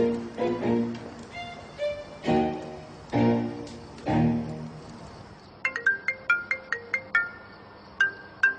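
A telephone ringtone chirps in a quick series of bright, repeated electronic tones, coming after several louder held musical notes in a dramatic scene.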